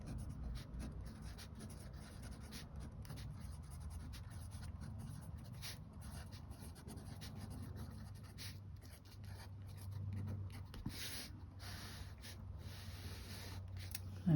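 Scratchy pen nib scribbling across paper while ink tangle patterns are drawn, a steady close rustle with short strokes and pauses, faint throughout.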